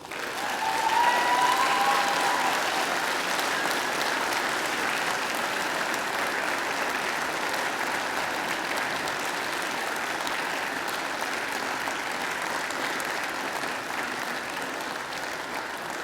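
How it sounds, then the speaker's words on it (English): Applause from a large audience at a university graduation ceremony, a steady dense wash of clapping that holds throughout and eases off slightly toward the end. "give them a mighty round of applause"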